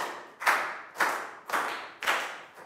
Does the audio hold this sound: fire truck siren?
no